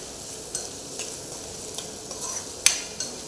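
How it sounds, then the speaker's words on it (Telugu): Chopped onion pieces sizzle in hot oil for chicken curry, a steady frying hiss with a few stirring clinks and scrapes, close and fairly quiet, no talking. "నూనె అయిందనుకో ఉల్లిపాయ ముక్కలు కూడా వేసేస్తాం"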